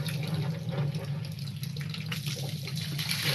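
Dirty water gushes steadily from farm water pipes after an internal flushing, a continuous broadband rush with a low hum beneath, close and fairly loud throughout.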